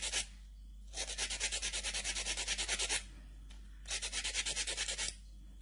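Flat nail file rasping across an acrylic nail in two bursts of quick, steady back-and-forth strokes, close and clear, separated by a short pause.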